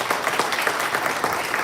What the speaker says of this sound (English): let's give our legislators one big round of applause for their efforts tonight